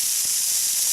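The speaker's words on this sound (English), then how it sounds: "So for deglazing the pan, this is where the pat of butter goes in" Butter hits a hot pan over a campfire to deglaze it after browning chuck, letting out a loud, steady steam hiss that fills the whole second with no talking.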